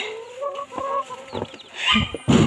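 A chicken clucks and squawks close by in short, agitated bursts, with a louder flurry at the end.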